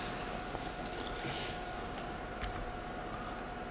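Quiet, steady typing on a computer keyboard, a continuous patter of light key clicks with a few slightly sharper taps, recorded close in a calm room with no voices.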